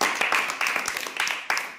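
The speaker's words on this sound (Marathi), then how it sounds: "वाजवा टाळ्या।" A classroom of students clapping their hands in a brief burst of applause lasting under two seconds, bright and close, with a teacher's voice over it.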